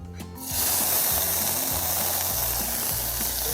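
Minced onion hits hot oil in a pan and breaks into a loud, continuous sizzle, with faint scraping of stirring underneath.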